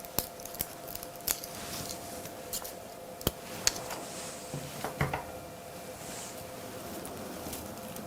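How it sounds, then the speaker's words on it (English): Reel wire for a mixed winter greens Christmas garland is snipped with sharp, close clicks and cuts scattered through a quiet room, with faint rustling between them. "I'm going to trim my reel wire."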